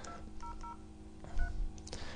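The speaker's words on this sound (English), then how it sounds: "I gotta unlock my phone." Keypad tones from an LG Rumor LG260 Virgin Mobile phone beep as a code is dialed, several short evenly spaced presses over a low steady hum.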